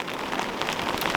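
Steady rain patters on a riverside wild campsite on Dartmoor, a dense, even hiss of drops with faint irregular taps, close and continuous, with no voices.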